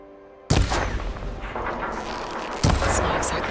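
An impact and burst at the mechanical arm's coupling in Horizon Forbidden West: a sudden loud broadband crash, then a rumbling tail, and a second heavy hit near the end, with game ambience underneath.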